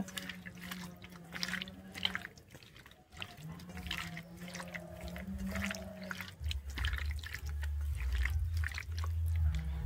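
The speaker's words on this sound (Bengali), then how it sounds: "এবারে দিয়ে দিচ্ছি আমি শিল ধোয়া জল দিয়ে আমি মাছটা ভালোভাবে মাখিয়ে নেব" Water, from rinsing a grinding stone, poured onto foli fish pieces being mixed with turmeric and salt: wet splashing and dripping that grows louder toward the end, with some faint tonal sounds underneath.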